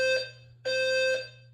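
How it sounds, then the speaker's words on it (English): A fire alarm in an apartment complex sounds two loud, shrill electronic tones, one short and one longer, separated by a brief gap, with a steady low hum underneath. "The blaring fire alarm jolting Gateway Chastain residents like Alexandra Reese from a deep sleep."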